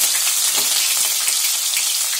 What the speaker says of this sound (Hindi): अब इसके अंदर एक चौथाई चम्मच जीरा डालेंगे, इसके अंदर कटी हुई हरी मिर्च डालेंगे